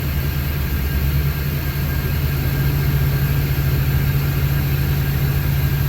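A box truck engine idles with a steady, low, droning rumble that stays unchanged throughout, with a small exhaust leak.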